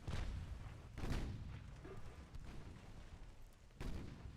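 Heavy naval gunfire in Ultimate Admiral Dreadnoughts, with deep booming impacts arriving as a few separate loud thuds of artillery and shell hits, quite close and rumbling, with no talking.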